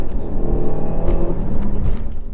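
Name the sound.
Renault Megane Trophy 300 accelerating, dropping gears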